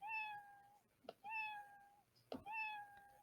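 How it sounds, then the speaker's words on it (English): Three quiet, evenly spaced cat meows from the Scratch sound effect repeat in turn, each a clear tonal call with small clicks between them. "let's do play sound meow until done"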